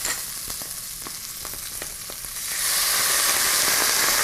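Collard greens sizzle in a hot skillet: a steady frying crackle with scattered pops, swelling into a louder, fuller hiss midway as two tablespoons of water hit the pan.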